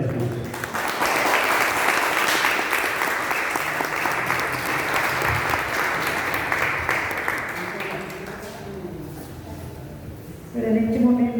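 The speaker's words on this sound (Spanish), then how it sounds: "Vamos a darle un fuerte aplauso a Jesús" A chapel congregation at an evening seminar applauds in a loud, dense wave that holds for several seconds, then thins out as a voice begins speaking.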